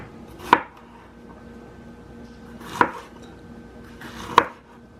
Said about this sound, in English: we're just going to cut these into rings